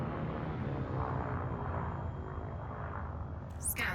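Spaceship engines in Elite Dangerous produce a low, steady rumbling roar with a soft airy whoosh, moderately quiet and continuous, with a brief sharp electronic chirp at the very end.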